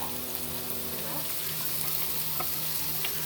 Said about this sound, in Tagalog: Lalagay natin guys ang toyo.